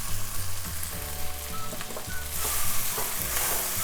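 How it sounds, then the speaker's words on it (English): Okra curry with garam masala being stirred in a hot pan, a close steady sizzle with repeated scraping strokes of the spoon, no voices. "We're gonna mix it well."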